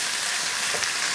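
Shrimp paste (alamang) hits a hot pan and sizzles loudly and steadily up close, a dense continuous frying hiss.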